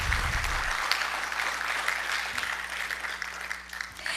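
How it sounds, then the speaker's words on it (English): An audience applauds at a school board meeting, a steady, fairly soft wash of clapping from a room full of people that keeps going without a break and fades slightly near the end. "Another big round of applause, please"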